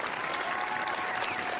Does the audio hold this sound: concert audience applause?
yes